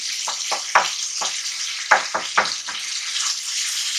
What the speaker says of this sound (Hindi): जैसे ये मैं चम्मच चला रही हूँ ना, इस लकड़ी के चम्मच से करना है नॉन स्टिक में।